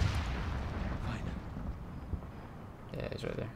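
A grenade goes off in a Modern Warfare 2v2 Search and Destroy match: a loud, rumbling blast that rolls on for several seconds, with a sharper burst of crackling debris near the end.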